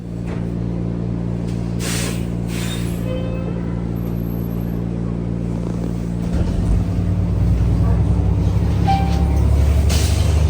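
A city bus ride heard from inside, with a steady low engine drone and hum, a rise in rumble as the bus accelerates, and occasional brief clunks and squeaks, no talking.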